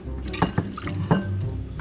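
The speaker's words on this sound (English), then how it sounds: "She's now going to pour in a little milk." Milk is poured into beaten eggs in a bowl, making soft splashing and glugging liquid sounds with a few sharp drips, close and moderately quiet.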